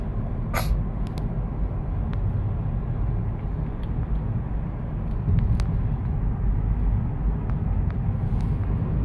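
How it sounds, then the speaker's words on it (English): Traffic on a road rolls past in a steady low rumble of passing cars, a continuous wash of engine and tire noise with a few faint clicks, no voices over it. "Too many cars."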